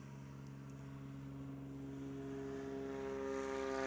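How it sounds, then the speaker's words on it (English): Light STOL aircraft in a touring-class short takeoff event in the Appalachian Mountains, its propeller engine at full throttle, a steady droning hum that swells louder over the takeoff run. "Sam, full throttle."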